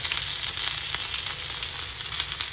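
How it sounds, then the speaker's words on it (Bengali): Spice paste of turmeric and chili powder with a splash of water sizzles in a pan as it is sautéed, a dense, steady hiss with small crackles and no voices. "ঝালের গুঁড়ো অ্যাড করলাম সামান্য একটু জল দিয়ে আমি ভালো করে মশলাটা কষা নিব"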